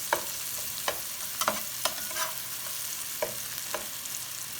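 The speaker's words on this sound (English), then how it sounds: "I'm going to stir my vegetables one more time" Vegetables for a Philly cheesesteak sizzle in a hot pan, a steady hiss broken by several sharp scrapes and clacks of a utensil stirring them, close and with no voices.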